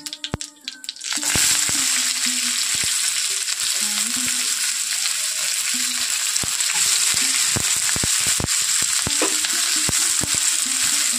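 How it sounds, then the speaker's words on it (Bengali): Chopped onion hits hot mustard oil with cumin seeds after a few quiet taps, bursting into a loud, steady sizzle, with scattered clicks and scrapes from stirring throughout. "পেঁয়াজটা কিন্তু বেশি একটা ভাজার কোনো প্রয়োজন নেই, হালকা আঁচে 1 মিনিট মতো একটু ভেজে নেব"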